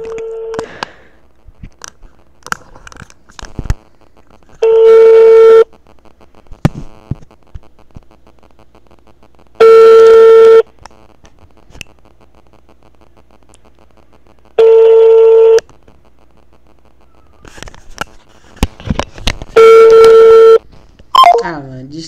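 Phone call over a line: a steady ringback tone sounds in long bursts about every five seconds, broken by brief noises between, and ends with a quick cut-off when the call hangs up.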